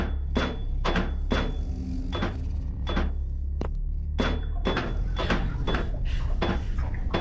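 Heavy, hollow thuds from a monster stomping in the SCP Containment Breach video game repeat in an uneven, plodding rhythm over a steady low rumble.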